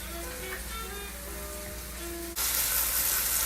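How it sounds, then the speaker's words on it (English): Beef short ribs searing in a hot pan for braising. A loud, steady sizzle starts abruptly partway through and continues to the end, following a quieter stretch with a low hum and some tonal sounds. "So we're going to take the next 8 minutes to sear all sides of this."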